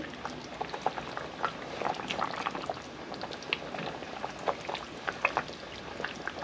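An eggplant and hilsa fish curry in a thin broth with poppy seed paste, simmering in a pot on the stove: soft, irregular bubbling pops and gentle liquid burbles that stay fairly quiet and continuous.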